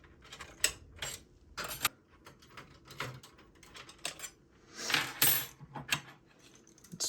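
Screws being unscrewed while building an AM5 gaming PC, a run of close metallic clicks, ticks and small rattles of tools and screws, irregular and fairly quiet.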